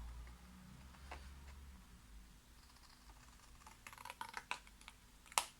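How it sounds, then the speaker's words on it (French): Scissors cutting through a sheet of paper in a quiet room, a few faint crisp snips and rustles clustering toward the end, the last one sharpest. "Maintenant, avec des ciseaux, on va découper"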